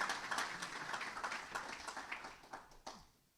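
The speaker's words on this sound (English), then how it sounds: "Nice round of applause." Applause from the audience at a chamber of commerce breakfast meeting: a dense, steady patter of many hands clapping, fairly quiet and thinning out toward the end.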